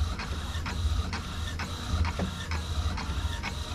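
A printer fitted with a replacement print head runs with a steady low mechanical hum and regular rhythmic clicks, a sharp tick roughly every half second, close by.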